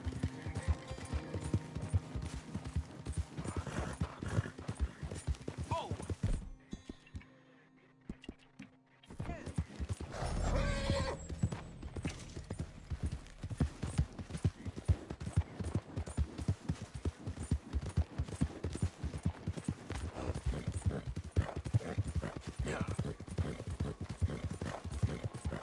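Horse hooves gallop in Red Dead Redemption 2, a loud continuous rapid clip-clop with a whinny and a brief quiet gap mid-way.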